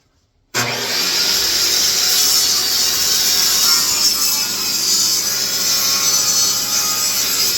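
A table saw cuts pallet slat wood. After a brief silence the blade abruptly starts a loud, sustained high whine and rasp, which holds steady and close for several seconds with no talk.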